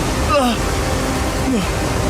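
Rushing water churns steadily inside a deep cave, a constant broadband roar that fills the whole clip, with a couple of brief whistling, voice-like sweeps rising over it.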